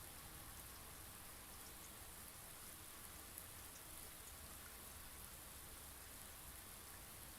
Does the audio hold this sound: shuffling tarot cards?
no